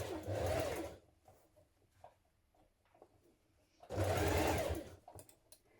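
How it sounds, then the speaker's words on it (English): A sewing machine stitches a coat sleeve in place, running in two steady bursts of rapid mechanical whirring separated by a quiet pause with faint handling noises. "When you've done this, we're going to stitch it in place."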